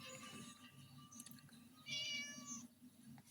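A cat meows a few times, short and then longer cries, faint against a low background hum, with no talking over it.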